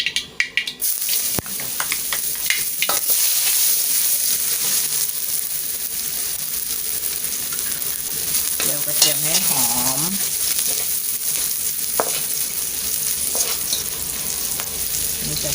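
Garlic frying in hot oil in a wok, a steady close sizzle that runs throughout, with a few stirring scrapes and clinks over it.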